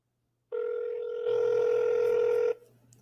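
Telephone ringback tone from an unanswered call, a steady electronic tone that starts abruptly, thickens partway through and cuts off after about two seconds, heard alone without talk.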